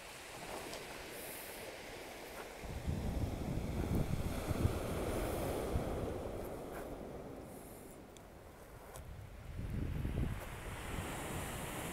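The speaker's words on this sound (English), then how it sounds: "that's ocean." Ocean surf rolls onto the wild Pacific coast near Cape Alava, with a steady wash of breaking waves that swells and fades, and gusts of wind buffeting the microphone.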